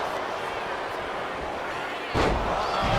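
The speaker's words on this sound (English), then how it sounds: "Sami Zayn from up top. Face first off the turnbuckle" A wrestler slammed face first off the turnbuckle in the WWE 2K25 video game, a single heavy impact landing over a constant roaring arena crowd.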